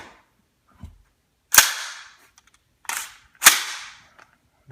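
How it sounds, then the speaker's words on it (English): A Colt 6920 carbine's buffer spring gives a few sharp metallic clacks and springy twangs, each ringing out briefly, with soft handling noises in between. The sounds are close and there is no talk. "And the real carbine buffer spring,"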